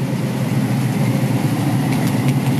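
A 1969 Chevrolet C20 truck engine with glass pack exhausts idles with a steady, deep, throaty rumble, close and unbroken throughout, with no voices.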